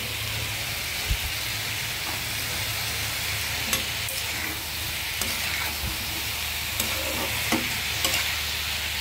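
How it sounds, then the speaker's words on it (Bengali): Mixed winter vegetables with scallions and tomato frying in a little oil in a pan, a steady close sizzle with occasional soft clinks and scrapes of stirring. "আমি আরেকটু কষে নেবো এখানে সুন্দর করে।"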